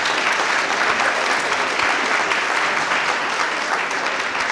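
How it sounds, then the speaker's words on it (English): Sustained, dense applause from a theater audience after a performance, loud and steady throughout with no break. "How about a big, big round of applause for David"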